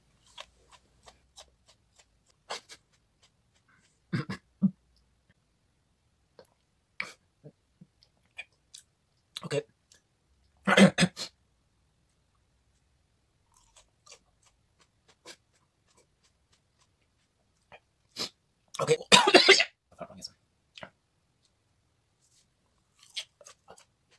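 Small-fruited super hot chili peppers, Caryolochia breeding-line plants, are chewed close up in scattered bursts of crisp crunching and mouth sounds separated by quiet gaps.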